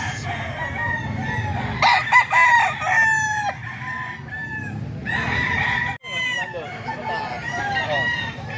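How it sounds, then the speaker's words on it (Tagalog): A banded gamecock rooster, about nine months old, crows loudly nearby several times in a row, with hens clucking and faint voices in the background. "Ito, manok to ni Boss Lando mga ka-idol"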